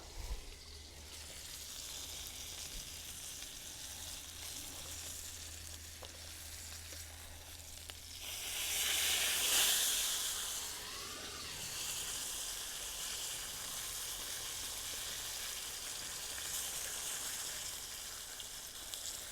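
Steak frying in butter in a pan gives a steady broadband sizzle throughout, with a louder surge of hissing spatter partway through, then settling back to an even fry; no talking.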